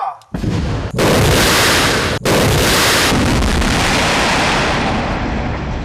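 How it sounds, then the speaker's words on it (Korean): Rock blasting explosion in a vertical shaft of an underground tunnel construction site, some 300 metres deep through rock: a sudden loud roaring blast followed by a sustained heavy rumble with a brief dip, then a continuing thunderous roar. "강력한 폭발 뒤에 후폭풍처럼 밀려오는 진동."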